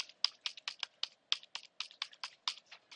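Rapid typing on a computer keyboard while entering an address in a web browser, a steady run of about twenty crisp, close key clicks over three seconds, fairly quiet and with no talking.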